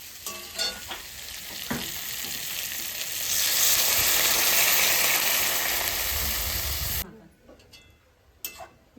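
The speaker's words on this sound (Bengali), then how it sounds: "আমার সবজিটা কষানো হয়ে গেছে এবার জল দিয়ে দেবো" Water poured into a pan of mixed vegetables with pumpkin, potato and prawns bursts into a loud, rising sizzle that swells midway and cuts off abruptly, followed by quieter stirring clinks.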